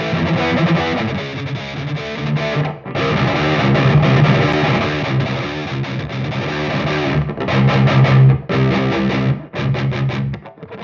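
Heavily distorted electric guitar riffing through a Mesa cabinet impulse with a room impulse blended in, loud and dense with sustained chugging chords, brief gaps between phrases and a short pause near the end.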